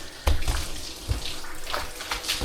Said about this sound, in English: Just kind of squeeze as much water out of it as you can.